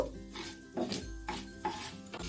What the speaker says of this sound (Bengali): এবার পুরো ফোড়নটাই সব একসাথে মিশিয়ে ভালো করে নাড়িয়ে নেব